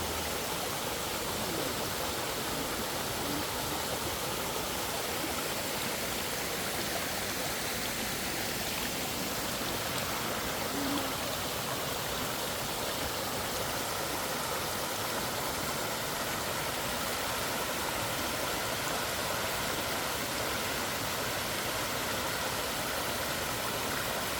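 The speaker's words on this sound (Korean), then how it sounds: "바로 물 좀 봐요, 물 좀. 일로 흘러서" A mountain stream in a valley rushes steadily and loudly, a dense, unbroken wash of flowing water that fills the whole scene without pause.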